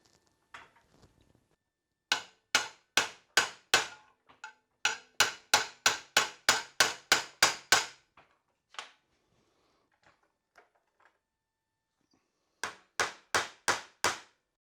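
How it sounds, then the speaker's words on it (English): A metal bracket for a Porsche 911 remote oil filter mount is hammered while clamped in a vise, with sharp metallic blows in quick bursts and pauses between them, close and alone. "I think I'll just bend this on the vise."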